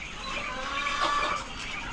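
Chickens cluck softly in the background amid farmyard ambience, a short stretch of low, scattered hen calls.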